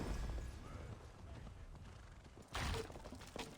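A horse in the video game Assassin's Creed Valhalla clip-clops its hooves and gives a short whinny. The sound is quiet, with a sharper burst of hoof thuds near the end.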